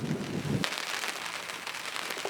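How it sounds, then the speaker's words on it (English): Steady rain patters and hisses on surfaces nearby, with a brief low rumble of thunder at the start before the downpour continues alone. "Yes, it is raining"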